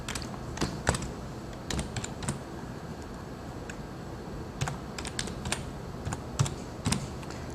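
Someone types an email address on a computer keyboard, a sparse series of crisp, close key clicks in short irregular bursts over a quiet room background.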